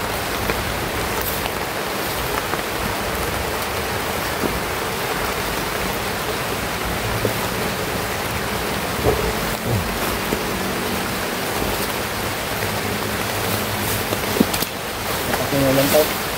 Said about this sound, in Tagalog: Ulan to. ha? Ulan. Malakas na yun.